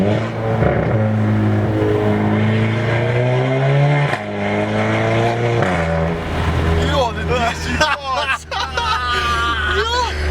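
A loud straight-piped Volkswagen Golf 7 GTI exhaust revving and droning up and down in pitch, with people's voices chattering over it.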